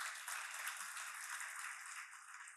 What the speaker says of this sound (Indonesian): Mari tepuk tangan buat Tuhan,